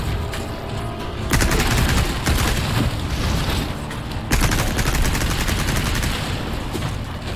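Rapid gunfire from the video game Resident Evil: Separate Ways, with dense, loud bursts of shots running almost continuously through the clip and two sharper volleys standing out.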